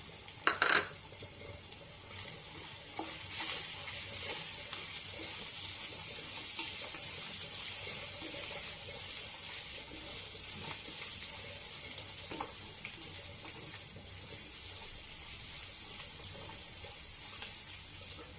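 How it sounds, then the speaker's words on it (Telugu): Green chillies for an egg curry fry in a pan with a steady sizzle and broad hiss, with a few clinks of a utensil against the pan near the start, continuous and close with no talk. "పచ్చిమిర్చి వేసుకుందామండి ఇప్పుడు."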